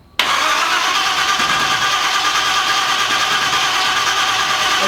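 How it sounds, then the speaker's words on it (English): The starter of a 1965 Chevy C-10 pickup kicks in abruptly and cranks the engine in a loud, steady, close whirring drone that holds without pause through to the end. "That starter cranks"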